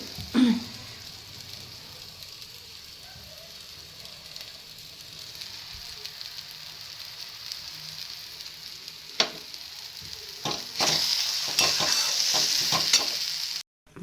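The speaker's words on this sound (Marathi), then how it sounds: "कडेला तेल सुटतपर्यंत याप्रमाणे मिरची परतून घ्या" Green chillies frying in oil in a pan for Maharashtrian thecha: a continuous close crackling hiss with scattered pops, swelling louder near the end before cutting off abruptly.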